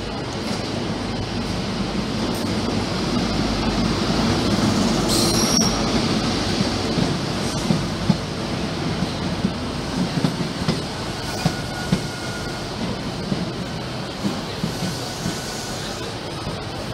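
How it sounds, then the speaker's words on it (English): A British Rail Class 43 train arrives at Exeter St Davids station with a continuous loud rolling rumble, squealing wheels and scattered clicks and clunks as the carriages pass close by. "let's take a look at this Class 43 arriving at Exeter St Davids"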